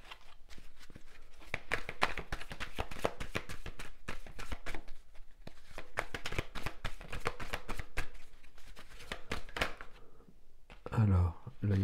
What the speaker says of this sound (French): on va prendre quelques cartes du tarot